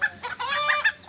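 Chickens give a short burst of clucks and squawky calls, close and fairly loud, several overlapping notes in about a second.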